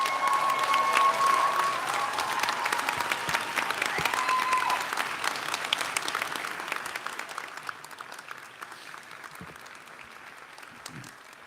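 A graduation audience gives dense, sustained applause in a large hall, loud at first and then slowly thinning out toward the end.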